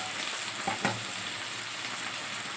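Food fries in oil with a soft, steady, fairly faint sizzle and one brief clatter near the start.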